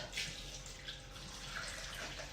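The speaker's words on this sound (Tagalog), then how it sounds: "Pakukuluan natin siya, ha. Lalagyan natin ng tubig." Water runs and splashes into a cooking pot holding sautéed bottle gourd with ground meat and longaniza, a steady soft pouring sound close by with no talking.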